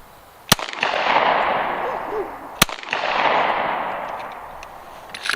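A 9mm handgun fired outdoors at a target 100 yards away: two sharp, loud shots about two seconds apart, each followed by a long, rolling echo that fades slowly.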